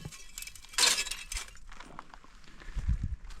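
Broken glass from old whiskey and alcohol bottles clinks and scrapes as it is shoved aside inside an abandoned mine mill, one bright burst near the start, then scattered lighter chinks and low knocks.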